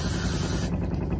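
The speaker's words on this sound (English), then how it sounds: "and then another spray." A single hiss of hairspray sprayed onto long jumbo twists during braiding, close and sharp, lasting about half a second and then cutting off.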